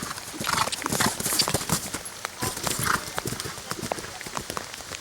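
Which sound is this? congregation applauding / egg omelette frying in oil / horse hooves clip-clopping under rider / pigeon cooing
horse hooves clip-clopping under rider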